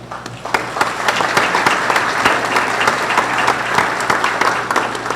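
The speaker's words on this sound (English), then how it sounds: "I ask you to give him a round of applause." A round of applause in parliament, sustained and full, many hands clapping steadily and loudly for several seconds.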